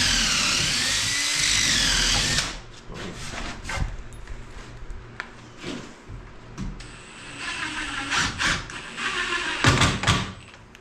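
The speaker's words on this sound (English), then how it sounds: "We'll counter drill this last one." Power drill counter drilling a wood Adirondack chair part for screws, a steady whine for a couple of seconds, then scattered knocks, clunks and short tool bursts nearby.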